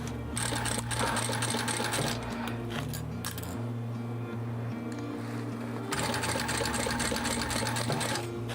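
Sewing machine backstitching the seams of a floral fabric water bottle bag, a loud continuous mechanical whirr that pauses and shifts speed briefly midway before running again close up.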